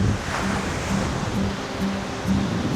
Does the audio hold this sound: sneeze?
no